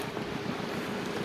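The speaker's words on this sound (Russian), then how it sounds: "ветер шумит" Strong wind roars over a lake during a stormy fishing trip, a loud, continuous rushing gust buffeting the microphone with no letup.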